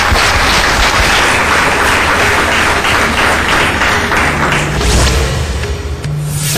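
A studio audience gives a loud, sustained round of applause welcoming a guest astrologer onto a show, with thick continuous clapping close by throughout and no talking over it.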